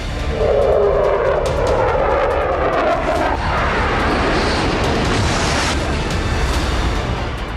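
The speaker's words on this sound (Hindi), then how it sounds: "जो फाइटर जेट गरज रहे थे," Fighter jets roar overhead in a war zone during the Syrian civil war, a loud continuous engine rush that swells and shifts in pitch as the aircraft pass, dense and overpowering throughout.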